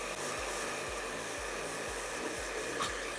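A hair dryer blows steadily and loudly throughout while layered hair is being blow-dried, its droning airflow pulsing with a repeating low flutter as the brush and nozzle move, with no talking.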